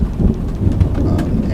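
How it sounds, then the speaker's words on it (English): Heavy rain drums steadily on a surface through a thunderstorm, with low rumbling thunder rolling underneath, loud and close throughout. "As we watch this storm come together here"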